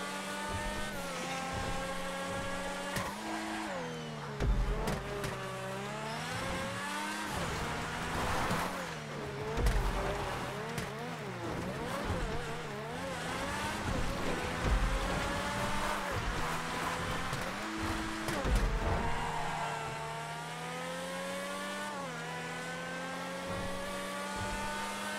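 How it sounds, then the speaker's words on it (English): Race cars in a racing video game roar continuously, engines revving up and down through gear changes with rising and falling pitch, loud and sustained with no talk. "The new cars they put in the game are fucking legit, dude."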